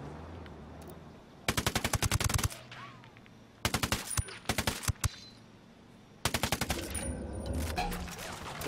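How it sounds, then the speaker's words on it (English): Gunfire in the video game Ghost Recon Wildlands: loud bursts of rapid automatic shots come in three clusters, separated by pauses filled with quieter ambient game sound. "Damn, that is some terrible shooting!"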